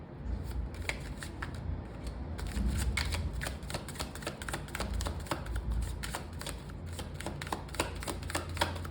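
Tarot cards are shuffled by hand in a long run of quick, crisp riffling bursts with short pauses, close and fairly quiet, with no speech.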